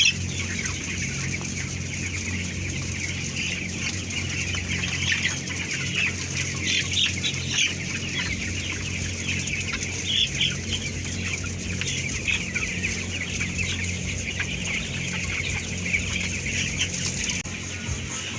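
Broiler chickens kept in a colony coop cluck and murmur steadily, a dense continuous flock chatter under a constant hum of fans or machinery, with no talk.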